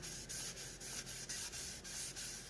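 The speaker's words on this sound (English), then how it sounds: "just a few swipes with that Scotch-Brite and it mats it right down and puts some nice scratches in the surface" A Scotch-Brite pad scuffs the shiny surface of a Morimoto XB headlight for a 2018 Silverado in quick repeated swipes, a close, steady abrasive rasp with a regular back-and-forth rhythm and no talking.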